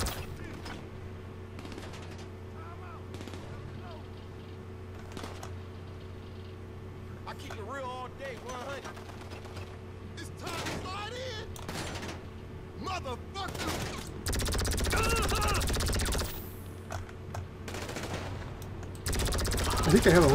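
Gunfire crackles in a shooter video game as bursts of shots that come and go. A heavier stretch of firing arrives late, mixed with other game sounds.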